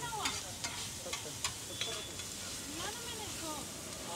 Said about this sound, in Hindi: ये दोनों को फ्राई करेंगे पहले।